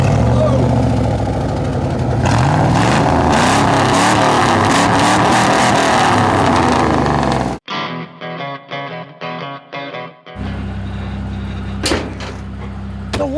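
A Dodge Dakota engine turns over and revs loudly under excited voices, then the sound breaks into choppy, processed fragments before a rough engine roar returns.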